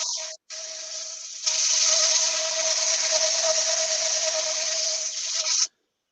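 Sandpaper works an ash wood platter on a lathe with a steady, close rasping hiss. The sound starts quietly, grows louder after a brief pause and then stops abruptly.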